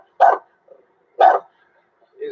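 A dog barks twice, sharp and loud and close, about a second apart, with a softer yip between them and a whimper at the end.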